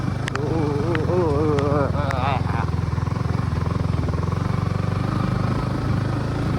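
A motorcycle climbs a steep, rough road, its engine a steady close droning rumble throughout, with a person talking over it early on.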